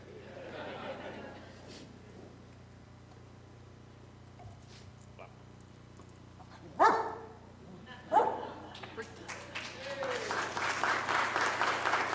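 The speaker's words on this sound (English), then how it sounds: "I can make him bark for you." A retired police dog barks twice in sharp bursts at a city council meeting, followed by rising applause and crowd noise, with people talking in the room.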